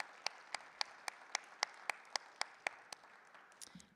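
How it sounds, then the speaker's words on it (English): Faint, evenly spaced hand claps in a steady rhythm, about four per second, trailing off at the end, at a high school National Honor Society induction ceremony. "Let's give them another round of applause."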